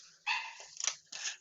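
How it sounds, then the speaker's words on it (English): A dog barks at home in three separate bursts, each a sharp, fairly close, moderately loud bark with short pauses between them and no one talking. "dog is barking right now"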